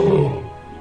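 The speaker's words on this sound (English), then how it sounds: "A lion's roar that can be heard up to 5 miles away" A lion lets out a loud, close, deep roar that starts strong and slowly fades over its short span.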